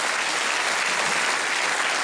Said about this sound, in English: Let's give God the best clap of praise.